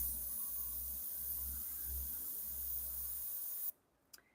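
An airbrush sprays paint in a continuous soft hiss, close and even, that stops abruptly near the end, leaving brief faint clicks.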